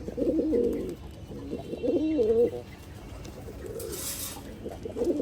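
Pigeons cooing at close range on a pigeon farm, several warbling low coos in bursts, with a brief hiss in the middle and no talk.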